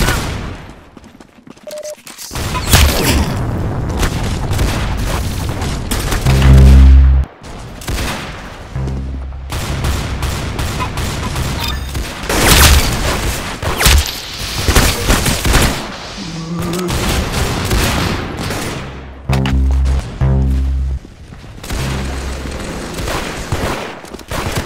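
Gunfire in the Roblox game Arsenal: loud, rapid automatic bursts and repeated shots fill nearly the whole stretch, with heavier booming impacts mixed in and only a few brief lulls.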